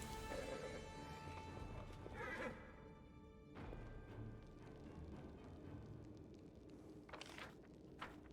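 Horse neighing and hooves clip-clopping in the fantasy video game Pathfinder: Wrath of the Righteous, with a whinny early on, a louder burst of motion mid-clip, and brief sharp sounds near the end over steady game ambience.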